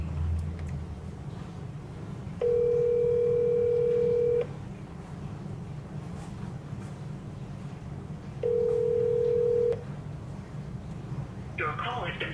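A telephone call rings out with two long, steady electronic ring tones separated by a pause, heard close and clear through a phone speaker, followed at the end by a brief recorded voice.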